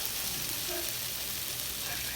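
Tofu seasoned with five-spice, salt and pepper sizzles steadily in a frying pan for a stir fry, a close, even, bright hiss with no talking.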